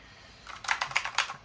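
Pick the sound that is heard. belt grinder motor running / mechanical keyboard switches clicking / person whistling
mechanical keyboard switches clicking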